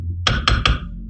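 Three quick metallic taps of a hammer on a gold-filled ring seated on a steel mandrel ring out close and crisp, evenly spaced with a short ringing decay.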